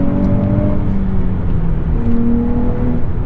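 A 2023 Nissan Z with a six-speed manual gearbox pulling under acceleration, heard from inside the cabin as a steady, rising engine drone with a smooth whir, loud and continuous, with no talking.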